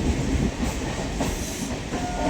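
An almost empty passenger train moves through the night, giving a continuous loud rumble with faint clickety-clack from the wheels, heard from inside the carriage with no speech.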